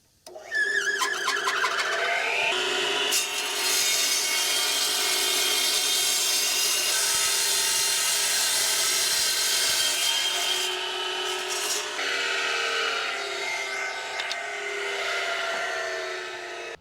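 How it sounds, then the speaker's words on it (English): Paver saw cutting flagstone bricks for a fire pit, a loud close high-pitched grinding whine that rises as the blade bites into stone and holds steady for a long cut before easing off, with no talk. "And then I got a paver saw hooked up, ready to go."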